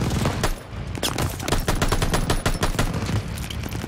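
Rapid automatic gunfire in the shooter game Call of Duty Vanguard, dense repeated bursts of shots, loud and continuous with brief gaps, no voices.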